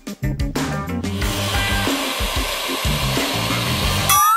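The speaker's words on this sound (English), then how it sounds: "Then, I'm gonna mix up the whites until they become nice and foamy." Egg whites whipped with an electric mixer until foamy: a few quick stop-start whirs, then a steady, loud, close motor whine with rattling beater noise that runs on alone.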